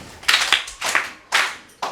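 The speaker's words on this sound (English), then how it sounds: "claps for yourself" Students in a classroom clap for themselves in a math lesson, four quick bursts of clapping in an uneven rhythm, close and fairly loud with no talk.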